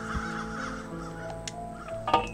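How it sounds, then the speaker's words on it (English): Odd game birds from Human Fall Flat on PS4 give a few faint, scattered caw-like calls and chirps over a low steady background hum. "I've never heard such weird sounding birds in my life."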